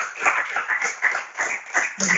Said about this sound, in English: Can we give one more applause for Dr.